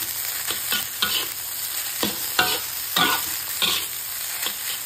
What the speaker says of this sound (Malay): Buka api besar, kacau-kacau sehingga nasi putih bersalut elok dengan telur